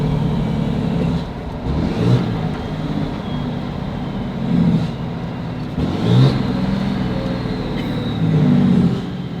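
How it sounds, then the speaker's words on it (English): A heavy Cummins diesel truck engine rumbles loudly, exhaust brake engaged, with repeated surging bursts of deep, chugging exhaust as it slows and downshifts, close to the listener. "listen to the exhaust brake"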